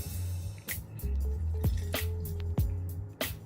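Thick, muddy cold brew coffee pours and drains through a kitchen strainer, making close, wet squelches and scattered drips with a few sharp splashes.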